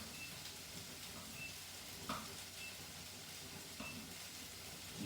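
Onions and peppers sizzling in a pan, a soft, steady frying hiss with a few faint stirring scrapes, quiet and close with no voices.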